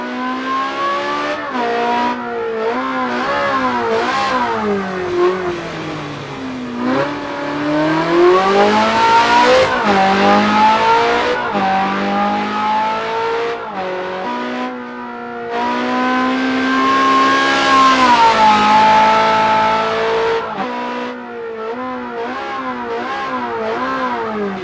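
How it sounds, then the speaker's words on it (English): A Ferrari 458 Speciale in the racing sim Project Cars 2 revs hard and loud, its engine note climbing and falling through repeated gear changes as it accelerates. The roar runs continuously and up close, with no talking. "the Ferrari 458 Speciale for Project Cars 2"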